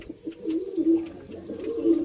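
Small young female pigeons in a Madras pigeon loft give soft, low cooing calls in a steady run of short rising and falling phrases, close and unaccompanied by talk.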